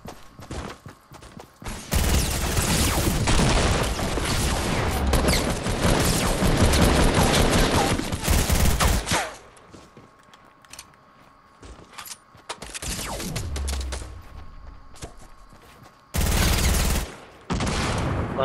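Gunfire in Fortnite, long loud bursts of rapid shots and fusillades, with quieter gaps and isolated shots between the heavy volleys.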